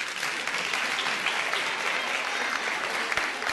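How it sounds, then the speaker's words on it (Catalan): Continuous audience applause at a Catalan tongue-twister game show, fairly quiet and evenly sustained for a few seconds with no talk. "De fora aplaudiment."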